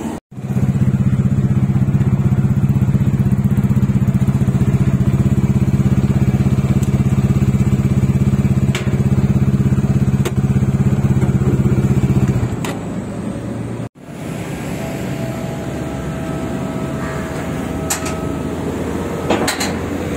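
A motorcycle engine, a Benelli TRK 251, idles loud and steady at close range for about twelve seconds, then cuts to a lower rumble after a sharp clunk, with faint clatter and handling noises afterward.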